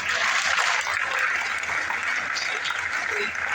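Audience applause at a Hindi poetry talk: a steady, dense wash of many hands clapping that fills the whole moment without a break.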